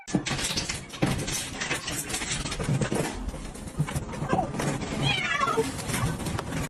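A house cat meows several times amid household noise. The meows are close and mixed with rustling and handling sounds.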